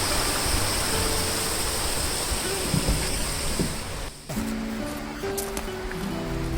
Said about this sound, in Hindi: पहाड़ों से नीचे आता कलकल करता पानी